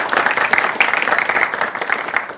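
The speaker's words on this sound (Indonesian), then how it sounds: "Tepuk tangan untuk kita semuanya" Dense clapping from a school audience at an Islamic religious program at SMA Harapan Mulia in Denpasar, steady and close, continuing for a couple of seconds without a break.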